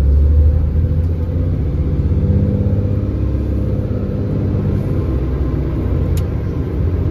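A loaded BS4 truck grinds uphill in first gear, a loud, heavy, low engine rumble that holds steady and strained throughout.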